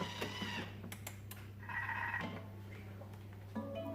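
A Thermomix timer sounds a short electronic tonal signal midway through, fairly faint, amid quiet kitchen background with a few soft clicks.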